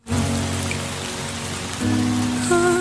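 Rain in a film scene, a steady wash of falling rain with constant patter under sustained low musical tones that swell and shift near the end.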